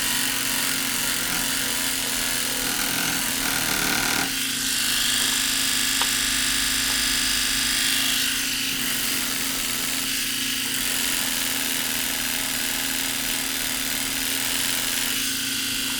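A David Union D400 pen sander smoothing a wooden piece gives a steady, close, high-pitched whine with a low hum beneath, running continuously with slight shifts in pitch and load and no talk.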